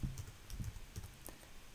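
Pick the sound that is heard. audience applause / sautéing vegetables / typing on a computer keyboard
typing on a computer keyboard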